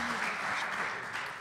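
Applause from a conference audience for the speakers, a steady wash of clapping that fills the room evenly and fades slightly toward the end.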